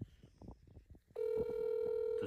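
A phone call placed outdoors at a lakeside pike fishing competition: a steady ringback tone sounds from a handset, loud and continuous, following a stretch of quiet talk.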